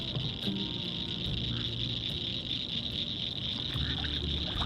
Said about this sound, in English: the cicadas kicked in with that eerie sound of theirs